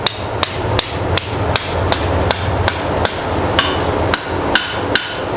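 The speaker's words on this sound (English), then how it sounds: "It's kind of slow forging because you really can't get a good hard hit on it." Hammer striking hot steel on an anvil while forging a spoon end, about a dozen sharp ringing blows at a steady, slightly slow rhythm, close up over the constant whoosh of a forge fan.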